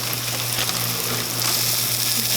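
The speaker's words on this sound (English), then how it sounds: "Get that meat cooking in there." Meat for pepper steak frying in a pan alongside sliced onions, a steady broadband hiss with a constant low hum underneath, continuous and fairly close throughout.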